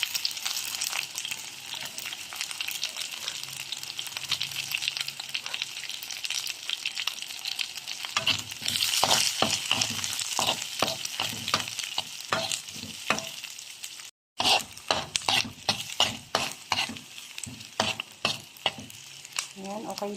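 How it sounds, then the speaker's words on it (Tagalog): Ginger, garlic and onion sautéing in a pan for Filipino dinuguan give a steady close sizzle, joined about halfway through by a quick run of stirring scrapes and clatters against the pan. "Ilalagay na po natin yung bawang. Tapos ilagay ko na rin yung sibuyas"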